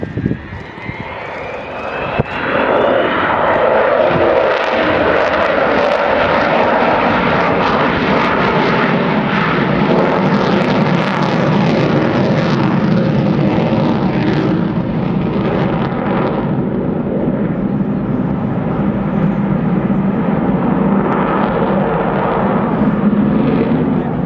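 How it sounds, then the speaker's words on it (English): An Avro Vulcan XH558 delta-wing jet bomber powers up its engines into a spiral climb at an air day display, a loud, sustained roar rising and holding for over twenty seconds with a low rumbling tail. "you can see the power coming on those engines, and he's going to do a spiral climb"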